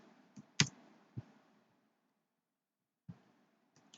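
Typing on a computer keyboard at a desk: a few sparse, quiet key clicks with long gaps of near silence between them.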